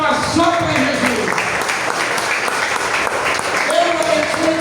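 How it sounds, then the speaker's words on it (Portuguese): A church congregation applauds for Jesus at a family worship service, a steady wash of clapping lasting throughout, with voices heard over it. "Dê uma salva de palmas só para Jesus."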